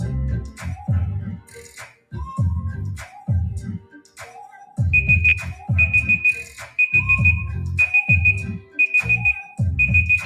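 A quiz countdown timer alarm beeps repeatedly in a rhythmic pattern, loud pulsing bursts with a high electronic tone sounding in regular groups.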